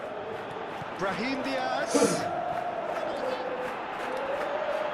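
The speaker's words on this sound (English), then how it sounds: "you can feel and hear how the crowd are reacting to all of this." Football stadium crowd in a PlayStation football game, a rising roar with a sharp swell of cheering at its peak, under a commentator's voice that says a player's name.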